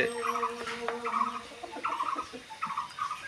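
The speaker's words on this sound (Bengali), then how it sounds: "এই যে আমাদের চীনা হাঁস" Chinese geese honk in a farmyard, a series of loud, close, nasal calls repeated in short bursts with brief pauses between them.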